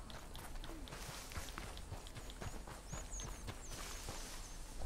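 Horse hooves clip-clop at a steady walking pace in Red Dead Redemption 2, with faint chirps and a soft ambient background behind the rhythmic steps.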